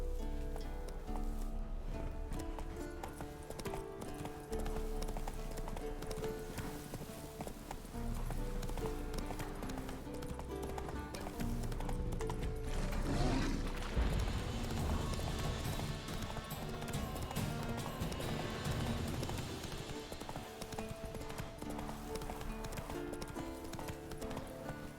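In The Witcher 3, the horse Roach gallops in a fast rhythmic clip-clop of hooves that runs almost unbroken, loud and close, over a layer of in-game music.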